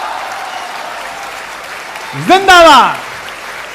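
An audience at a Hindi kavi sammelan poetry recital keeps up a steady wash of applause, and a single loud voice shouts a cheer over it near the end.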